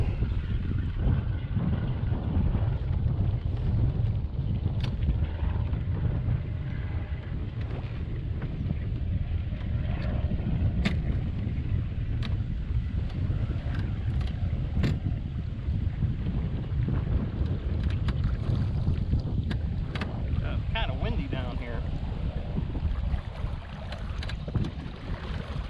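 Motorboat running steadily across a lake in Moraine State Park, a continuous low engine rumble mixed with wind buffeting and water noise, close and loud throughout.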